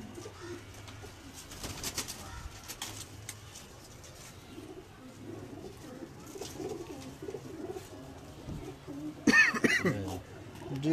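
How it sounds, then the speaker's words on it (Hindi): Pigeons coo softly in a rooftop loft in Gujranwala, including a bulb-type pigeon, with low repeated calls over ambient noise and a brief louder burst near the end. "ये कबूतर है बल्ब वाला"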